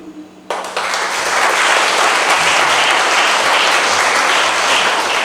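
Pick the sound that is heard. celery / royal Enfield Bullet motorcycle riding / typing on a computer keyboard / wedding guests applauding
wedding guests applauding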